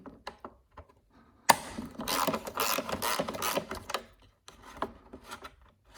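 Metal clicking and ratcheting from a wrench taking a nut off a Honda GCV160 mower engine while repairing its recoil pull starter: a few light ticks, then a dense burst of rapid ratchet clatter, easing into scattered clicks, close and alone.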